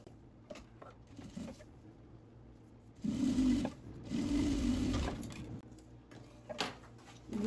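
Sewing machine stitching a half-centimetre seam on a fabric pencil case, with two bursts of rapid mechanical whirring between quieter handling clicks and rustles, close and without talk.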